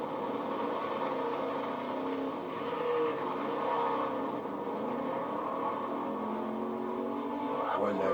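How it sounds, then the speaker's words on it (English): A Chevrolet Camaro from the 1980s drives past at a car show, its engine and muffler rumbling steadily at moderate distance amid outdoor crowd noise, with people talking faintly. "That was a beautiful Camaro."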